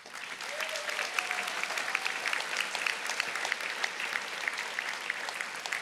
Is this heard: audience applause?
yes